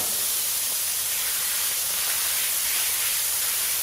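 Steak searing on a Blackstone flat-top griddle gives a steady, dense sizzle that runs loud and unbroken throughout, close up and with no talking.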